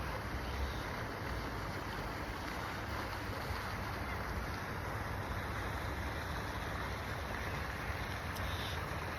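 A water fountain splashes in a continuous, even wash of falling water, heard from a moderate distance as a faint, unbroken outdoor hiss.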